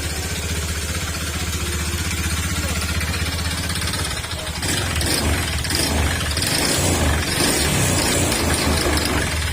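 A Honda Beat FI scooter engine with a worn crankshaft idles loudly nearby with a rough, rattling knock, then revs up partway through into a harsher mechanical clatter.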